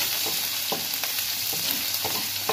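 An ingredient roasting in hot oil in a pan while making chicken kachori, giving a steady, close sizzle with faint stirring scrapes and no talking.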